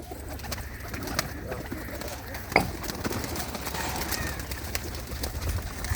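Pigeons coo softly amid a steady outdoor background, with a brief sharp knock partway through; the calls are faint and blended into the ambient noise rather than standing out clearly.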